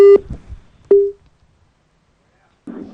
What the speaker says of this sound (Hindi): जवाब नहीं दे पाए तो फोन कट कर दिया है